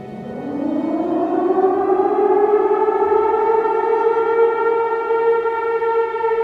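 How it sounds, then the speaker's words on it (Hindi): Air raid siren wailing across Los Angeles on a night in February 1942, a steady rising tone that swells within the first second and then holds loud and sustained, alone with no voices. "ठीक सुबह के 2:25 AM को एयर रेड सायरन पूरे लॉस एंजल्स में बजता है।"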